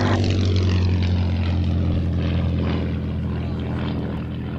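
A P-47 propeller fighter arrives at an air show, its piston engine droning loudly and steadily overhead and slowly easing off.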